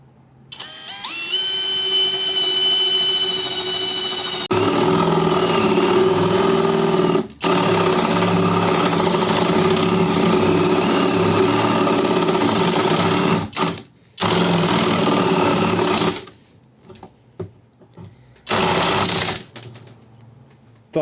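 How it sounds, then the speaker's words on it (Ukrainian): A Ronix 8900K brushless impact drill bores into brick with a 40 mm bit, a loud, steady high-pitched motor whine with grinding rattle that cuts out briefly, then resumes in shorter bursts before stopping. "Тепер будемо перевіряти 40-й діаметр сверла"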